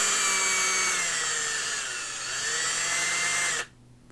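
Power drill boring out a magnet hole in a Warhammer 40k Adeptus Custodes Vertus Praetor jetbike model, a steady close whine running without a break for several seconds, then cutting off abruptly.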